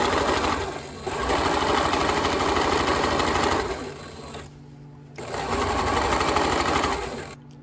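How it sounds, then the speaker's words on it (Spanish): A sewing machine set to straight stitch runs a seam along a trouser hem in two long bursts of rapid, even stitching, separated by a short pause, close and clear. "Ahora voy a coserlo y lo voy a coser con costura recta."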